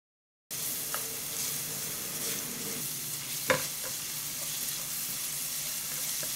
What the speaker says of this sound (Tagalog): Maggisa din tayo ng bawang